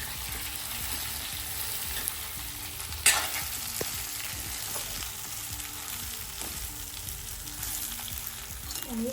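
Stuffed okra (bharli bhindi) with masala frying in a pan, a steady soft sizzle and crackle with one sharp clink of a utensil partway through.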